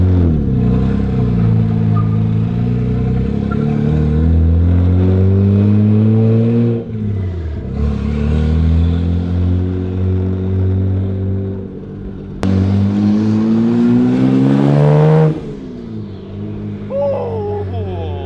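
A loud car engine, fitted with a cheap aftermarket air intake, revs up and down repeatedly, pitch climbing and dropping as it downshifts, close and powerful.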